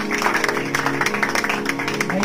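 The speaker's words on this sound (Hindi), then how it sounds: "इसमें ताली बजने चाहिए" An audience at a poetry recital breaks into brisk, dense applause, many hands clapping steadily and close for a couple of seconds.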